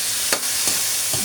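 Chopped tomatoes hit a hot pan and fry with a steady sizzling hiss, broken by a few quick stirring scrapes, in a Filipino radish dish being cooked.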